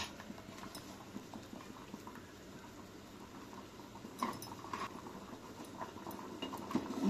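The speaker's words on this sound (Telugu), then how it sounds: "పప్పుచారు మంచిగా మరిగింది" Toor dal and drumstick pappu charu bubbling in a pot on the stove, a faint steady blub-blub of boiling with soft patter throughout and a few louder pops toward the end.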